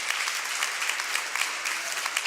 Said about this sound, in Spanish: Puede levantar un aplauso de alabanza en esta tarde.